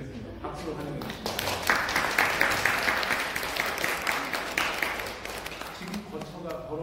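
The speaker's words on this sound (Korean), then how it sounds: "박수로 환영해 주십니다." Congregation in a Korean church in Durham, England applauding together in a warm swell of clapping that builds, holds for a few seconds and fades, with speech before and after.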